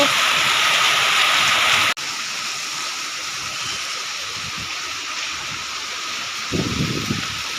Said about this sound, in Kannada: ಅದು ಮಳೆ ಸೌಂಡು ಕೇಳಲಿ ಅಂತ ನಾನು ಅದನ್ನು ವಾಯ್ಸ್ ಮ್ಯೂಟ್ ಮಾಡಿಲ್ಲ